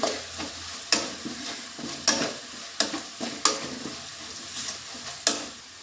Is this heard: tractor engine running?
no